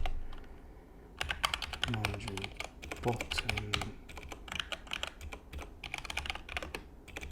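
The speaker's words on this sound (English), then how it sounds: "I'm making all kinds of typing mistakes. I'm not a fast typer, never been, but we make do." Close, fast clatter of keys on a computer keyboard, in irregular bursts with short pauses, during a web-coding work session, while someone speaks softly over the typing.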